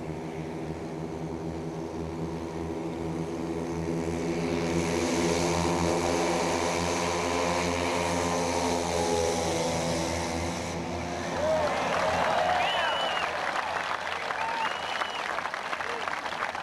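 A radio-controlled 405-pound model B-29 Super Fortress with multiple propeller engines drones steadily overhead, its rising and falling buzz continuous, while people talk and a crowd claps and cheers in the background.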